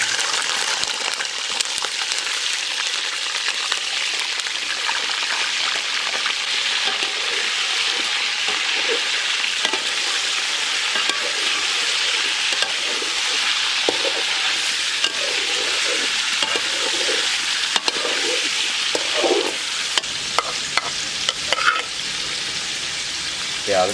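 Chicken fries in hot cooking oil for dum pukht, giving a loud, dense, continuous sizzle and crackle close up, with scattered pops and occasional stirring scrapes.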